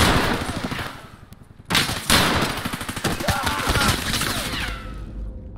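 Rapid bursts of gunfire in Escape from Tarkov, dense volleys and single shots crackling loudly across the whole stretch, with a brief lull before a sharp resumption.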